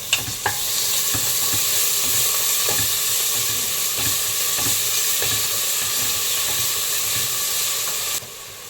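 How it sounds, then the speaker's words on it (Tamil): Ginger and garlic sautéing in oil for a Tamil-style chicken gravy, a steady loud sizzle and hiss with occasional scrapes of a spoon stirring the pan, no voices. "நல்லா வதக்கிடலாம்."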